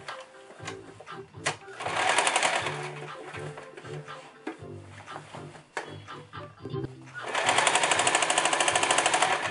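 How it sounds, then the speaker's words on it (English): A sewing machine stitches a half-inch seam around a long-sleeve shirt, running in bursts of steady rapid whirring that grow louder and denser near the end, with pauses and soft handling noises between runs. "I'm just going to sew a 1/2 inch seam allowance all the way around"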